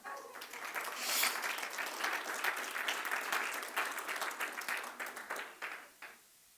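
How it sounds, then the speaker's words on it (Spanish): A church congregation at a Sunday service bursts into broad applause, many hands clapping in a dense wash that swells early, holds, then tapers and stops near the end. "Qué aplauso más grande."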